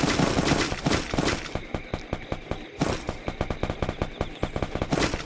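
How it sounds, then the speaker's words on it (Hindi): Laser gun fire in the mobile battle game Garena Free Fire crackles in rapid rhythmic bursts, loud and dense, with short pauses between volleys. "अब दूसरा मैंने लेज़र वाले गन से मार चुका हूँ बंदा"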